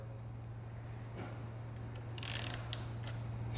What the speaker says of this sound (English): We'll need to loosen that axle nut so that the wheel can move freely.